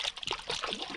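A water sound effect of bubbling, trickling liquid with a muffled, underwater quality, used in sound design for a film scene, heard as a dense, continuous gurgle lasting about a second.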